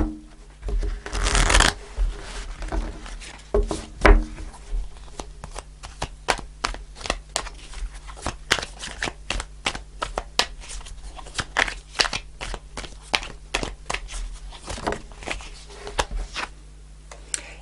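A deck of tarot cards is shuffled close up, with a louder riffle near the start, then a long series of quick, crisp card flicks and slaps in an irregular rhythm.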